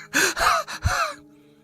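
A person gasping and panting out of breath after fleeing in fright, with several loud, ragged breaths in quick succession close to the listener, then trailing off into quiet.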